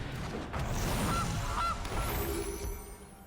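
Cartoonish goose honk effect for the Gilded Goose card in the MTG Arena card game, two short nasal honks in the middle of a busy game soundscape with a soft chime near the end.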